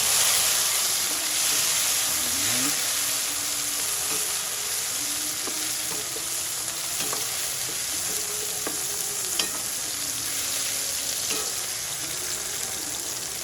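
Tomatoes frying in a pan until browned for an Ilocano poqui poqui dish, giving a constant bright hissing sizzle with occasional soft stirring clicks, close and even throughout.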